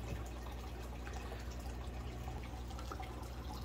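Water gushing from the outlet of an AQQA electric aquarium gravel cleaner while it sucks up tank gravel, a continuous close splashing rush over a low motor hum with scattered drips and gurgles.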